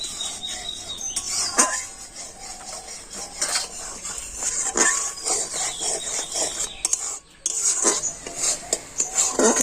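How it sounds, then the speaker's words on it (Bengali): Kheer made with semolina being stirred in a pot, a run of scraping and clinking strokes of a spoon against metal, close and uneven, with no voices. "আর এবার আমি নাড়াচাড়া করে ক্ষীর তৈরি করে নেব"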